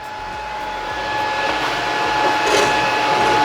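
Lift-start TIG welding arc, run with no filler: a steady continuous hiss and buzz with a fixed high whine, holding close and even for the whole stretch, with no talk over it.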